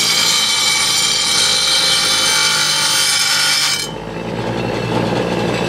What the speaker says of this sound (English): So you just turn it on, find your right angle, and you just grind that down so it's sharp.